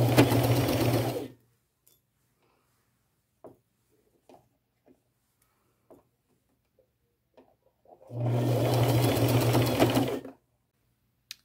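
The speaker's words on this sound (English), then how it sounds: "zigzag stitch, I'm just going to sew this all together." Sewing machine running a zigzag stitch around a ruffle, two loud close bursts of fast motor whir, one at the start and one near the end, separated by quiet pauses with small handling clicks.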